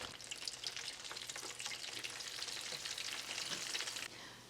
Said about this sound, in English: I'm only gonna be frying about half the bag of fries.